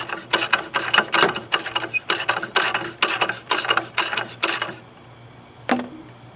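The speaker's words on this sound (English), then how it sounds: "if I crank this, it's gonna raise the alternator up and tighten up the belt" A ratchet cranks a bolt to raise an alternator and tension its belt, giving a close, rhythmic series of about a dozen clicking strokes, then a pause and one final short click.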